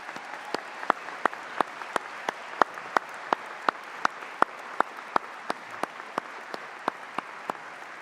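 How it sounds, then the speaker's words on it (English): University graduates at a graduation ceremony applaud the academic and professional staff. Sharp, regularly spaced claps from one nearby pair of hands stand out over a soft, continuous wash of distant crowd clapping. "graduates, join me in a huge round of applause again to say thank you"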